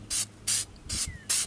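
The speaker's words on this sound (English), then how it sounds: "now we're going to use some black spray paint" Black spray paint hissing from an aerosol can in four short, sharp bursts with brief pauses between them, close and loud, used to coat an engine bay cover.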